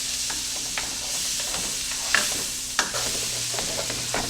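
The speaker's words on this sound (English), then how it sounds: "We're going to saute these down until they're nice and soft." Diced onion sautés in a pan with a steady broadband sizzle, broken by occasional utensil scrapes and two sharper clinks against the pan, close and continuous without any talking.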